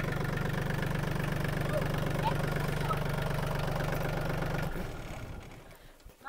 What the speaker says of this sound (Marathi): हा लहान मुलगा ट्रॅक्टर चालवतोय.